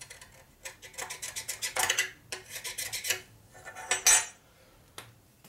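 Old gasket material is scraped off a part from a 1958 Harley-Davidson 74ci panhead engine, making a close, repeated series of rough metallic rasping strokes, each lasting a fraction of a second.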